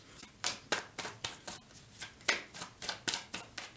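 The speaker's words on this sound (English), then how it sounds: "And I will keep shuffling until something comes out" Tarot cards shuffled by hand in a quick, steady series of crisp riffling bursts, close and clear with no talking.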